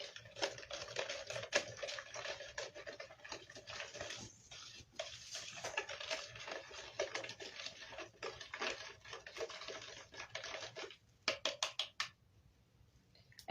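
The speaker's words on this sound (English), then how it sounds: "We will mix the ashes with water." Water is poured and stirred into wood ashes in a jar to make lye for natural soap, giving close, irregular splashing and trickling with a few sharp sloshes near the end before stopping.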